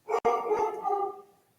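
A pet dog indoors lets out one sharp, close bark, then a drawn-out yelping bark that fades away.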